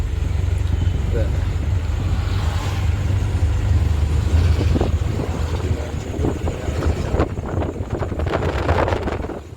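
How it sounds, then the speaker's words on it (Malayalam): Ordinary cars pass along a forest road at Pulippara, their low engine rumble swelling and fading under wind buffeting the microphone while a person talks over the traffic. "ഇവിടെ നോർമലുള്ള വണ്ടികളാണ് ഇങ്ങനെയൊക്കെ"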